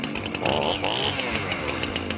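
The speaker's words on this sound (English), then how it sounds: "My chainsaw's ready to rip up some regulations." A chainsaw revs loudly and continuously in a political ad sound effect, its engine whine rising and falling slightly over a rough, buzzing drone with no talking.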